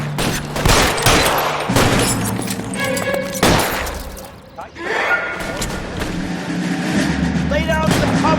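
Loud bursts of gunfire from a shootout in L.A. Noire on Xbox Series X crack in several clusters, with thuds and impacts between them, and game voices shout over the action.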